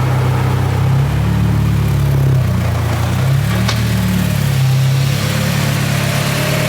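A freshly built Honda Integra Type-R with a K24 engine idles close by right after its first start, a smooth, low, steady hum with gentle wavering in pitch and no voices over it.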